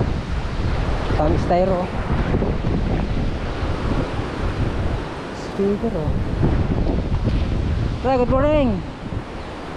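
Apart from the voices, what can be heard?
strong typhoon wind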